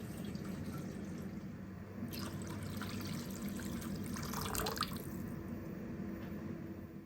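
Water poured into a cooking pot of stew made with smen (vegetable fat), a soft steady trickle and splash that swells briefly in the middle, heard alone at modest volume.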